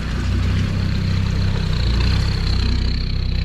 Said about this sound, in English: It sounds nice, there's lots of induction noise.